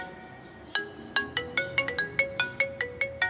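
A mobile phone ringtone sounds for an incoming call: a repeating electronic melody of sharp, bright beeping notes in a quick steady rhythm, close and clear, with no talk over it.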